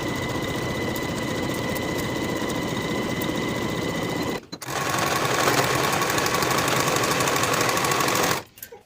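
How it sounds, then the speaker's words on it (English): A sewing machine stitches the side seam of a jumpsuit, running steadily and loudly in two long bursts separated by a short pause, with a brief stop near the end. "Now we'll sew this side seam from the top to the bottom with a 3/8 inch seam allowance"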